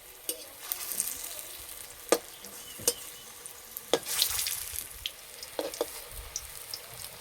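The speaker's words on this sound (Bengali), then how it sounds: "একটু লাল লাল করে ভেজে নেব।" Vegetarian egg substitute frying in hot oil in a wok, giving a soft steady sizzle broken by a few sharp clinks and scrapes of stirring, heard close with no talking.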